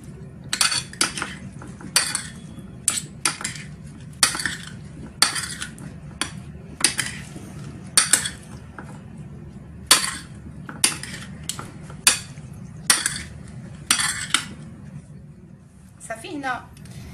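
A utensil tosses Moroccan cucumber salad in a bowl, seasoned with pepper, producing steady, fairly regular clinks and scrapes against the dish over a low background hum.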